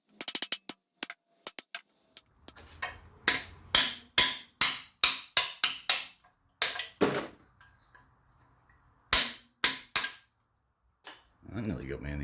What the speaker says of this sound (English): I'm gonna just knock the skirt off with a chisel from here